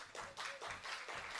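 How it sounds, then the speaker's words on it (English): Fans at a minor league baseball game between the Prune Packers and Mudcats clap in a steady rhythmic pattern, distant and fairly quiet, building noise late in the seventh inning. "Crowd starting to make some noise."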